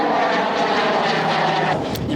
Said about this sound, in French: il y a un petit avion qui passe